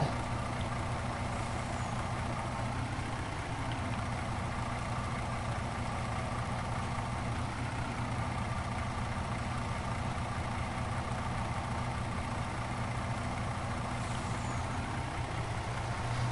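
A farm truck engine idles in a low, steady rumble while the truck is being filled, running close and unbroken for the whole stretch with faint mechanical noise and no talking.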